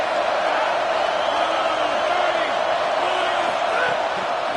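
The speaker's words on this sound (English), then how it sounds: "Decibels rising as the crowd gets behind this defense on third down" A college football stadium crowd roars on a third-down defensive play, a loud, sustained wall of cheering and noise with no breaks, broad and enveloping.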